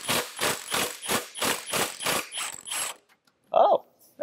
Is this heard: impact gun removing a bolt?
yes